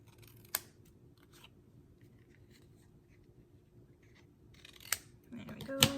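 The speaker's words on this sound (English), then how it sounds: "Trim my tag shape." Scissors trim a paper scrapbook tag, with a few crisp snips spaced apart at close range over quiet room noise, ending in louder handling and rustling.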